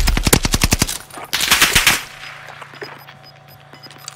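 A Bren machine gun fires in Warzone Caldera: a loud, rapid burst of close shots, a second short burst, then distant scattered gunfire in the background.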